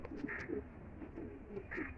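High-flyer pigeons coo softly at close range in a few short, repeated bursts. The calls are fairly faint, with no talk over them.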